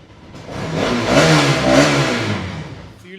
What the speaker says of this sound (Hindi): ये 2016 मॉडल है, कम चली हुई बाइक है, इंजन एकदम सील्ड है। एक बार आवाज़ सुन लो चाहो तो।